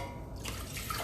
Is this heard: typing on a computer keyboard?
no